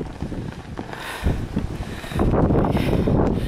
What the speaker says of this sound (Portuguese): Tá ventando muito, ventando muito.